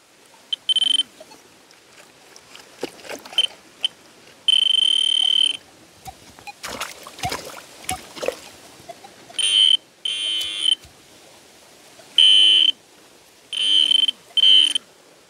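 A pinpointer metal detector beeping while a buried object is dug out of wet ground, a series of sharp, loud electronic tones in short and longer bursts with scraping and digging noises between them.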